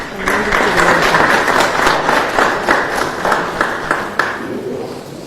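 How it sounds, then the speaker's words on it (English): A round of applause from a conference audience at a Zimbabwe contact centre industry panel, loud sustained clapping with distinct individual claps, easing off near the end. "Let's give a round of applause."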